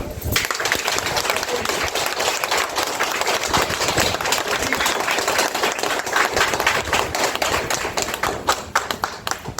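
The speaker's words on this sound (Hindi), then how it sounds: "और एक जोरदार तालियां" Loud, dense applause fills a gathering, a steady roar of many hands clapping throughout with no pauses, close and sustained.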